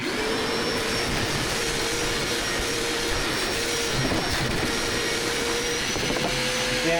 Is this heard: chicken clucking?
no